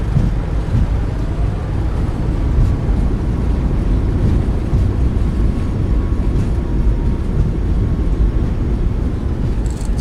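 Thrust reversers roaring as a Boeing 737 MAX 8 lands in the iFly flight simulator, a loud, steady, broadband rumble that holds without a break, with no talking.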